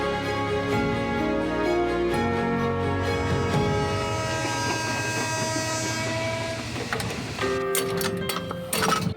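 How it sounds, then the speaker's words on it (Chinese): Heavy diesel train rolling slowly onto a railway turntable at Fangliao station in Taiwan, with steady rumbling engine drone, wheel clatter on rails and metallic squeals growing near the end; no talking. "火车尾稳稳啊驶入去转车盘"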